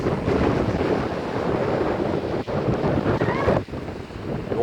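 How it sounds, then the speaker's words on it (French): Strong wind roars steadily across the microphone on a seafront in Brittany, facing the open sea, with a rushing wash of surf blended into the constant gusting. "on est face à la mer et face au vent. Donc ça souffle."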